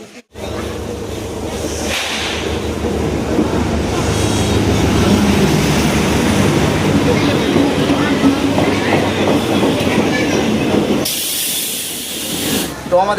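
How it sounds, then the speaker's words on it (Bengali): A train pulls out of Dalkhola railway station, a steady loud rumble and hiss of wheels and carriages rolling on for several seconds, with a sharp burst near the end. "ট্রেন ছেড়ে দিল ডালখোলা রেলওয়ে স্টেশন থেকে"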